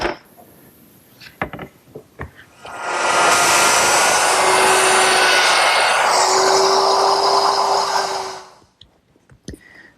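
A router cuts a clamped wooden piece for an umbrella stand, a loud, steady high whine that runs about six seconds before spinning down, framed by a few handling clunks before and after.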